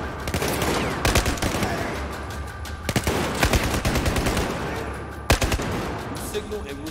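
Gunfire in the video game Battlefield 4, a sustained loud barrage of rapid shots with sharp louder cracks standing out, over dense background battle noise with faint voices.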